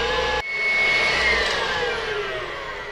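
Electric stand mixer running steadily while creaming butter for a chocolate cake, a loud continuous motor whir with a brief dip near the start, then holding even and alone.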